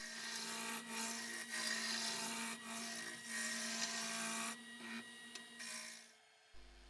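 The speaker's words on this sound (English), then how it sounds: "Just turning a piece round between a couple of ring centres." A wood lathe turns a piece of wood held between two ring centres, giving a steady, quiet whirring hum with a faint rubbing hiss and a few brief dips before it stops at the end.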